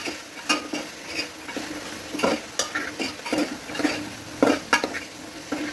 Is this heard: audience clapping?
no